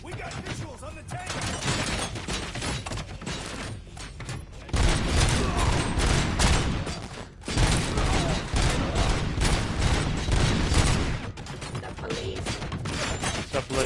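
Sustained gunfire in Robocop: Rogue City, rapid overlapping shots and booming impacts hammering almost without pause for several seconds, loud and close, with brief lulls between volleys.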